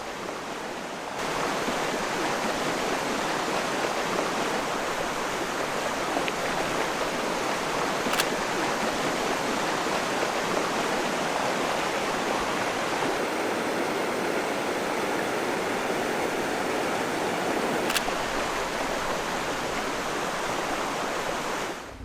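Bryant Creek flowing steadily, a continuous broad rushing of water heard up close, unchanging and alone with no voices.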